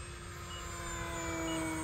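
An FMS Maule RC model airplane on a three-cell 3200 battery makes a steady, sustained motor and propeller whine at full throttle, loud and continuous as it passes, with no voices.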